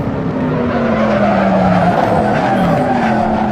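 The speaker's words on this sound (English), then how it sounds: "definitely feel the car starting to slide" Tires squeal as a car slides through a turn in the Assetto Corsa racing game, a loud continuous skid with gliding pitch over engine drone, close and without talk.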